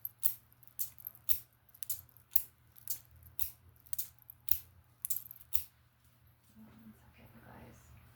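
Scissors cutting cords in a quiet room, about ten crisp, evenly spaced snips, then a short pause and a faint rustle.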